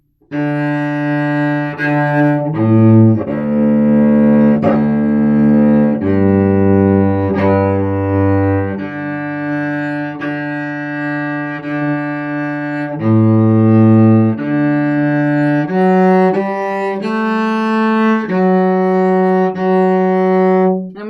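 A bowed cello plays a slow melodic line alone, long sustained notes stepping down into deep low tones and back up, rich and close.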